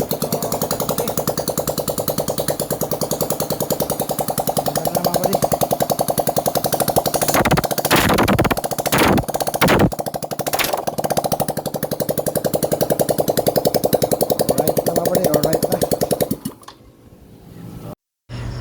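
A motorcycle engine, just reassembled after valve damage from a wrongly fitted part, runs at a steady rapid idle during a test, with a few sharp revs in the middle before cutting off near the end.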